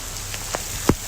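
Heavy rain falls on a surface in a storm, a dense steady hiss with a few sharper drops and splashes standing out close by.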